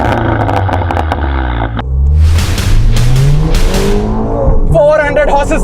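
Stage 3 tuned Audi TT with a 2-litre TFSI engine, loud and close: a strong rising rev, a sharp gap at a gear change, then another hard surge of acceleration with a squeal-like whine near the end.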